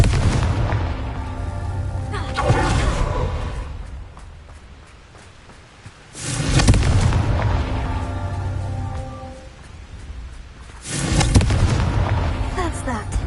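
The Confringo fire spell in Hogwarts Legacy goes off as three heavy, booming explosions, spaced several seconds apart, each rumbling and then fading before the next. Voices are faintly present.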